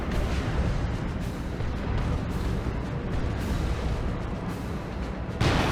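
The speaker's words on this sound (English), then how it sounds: "That's a Creeping Basilisk Barrage." Creeping Basilisk Barrage artillery in the strategy game Dawn of War 2 Retribution rumbles as a continuous roll of low booms and bursts at moderate level, with a sharper blast at the end.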